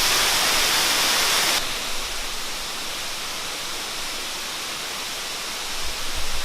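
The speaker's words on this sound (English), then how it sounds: "This is the waterfall." Krushuna waterfall produces a constant broadband rushing roar, loud and close at first, then dropping to a softer, steady hiss for the rest.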